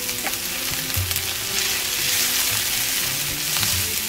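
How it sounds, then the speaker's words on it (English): Curry leaves and aromatics sauté over medium heat in a pan for a vegan squash and potato curry, giving a steady, close frying sizzle with a few brief stirring knocks and no talk. "Now we're going to saute the aromatics on a medium heat until they're light brown in color"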